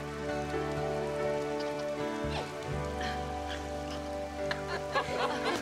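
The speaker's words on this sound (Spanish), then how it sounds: "¡Es lluvia! ¡Lluvia! ¡Lluvia!" Steady rain falls on surfaces in an Australian outdoor setting, a dense continuous patter mixed with low droning tones and occasional brief vocal sounds.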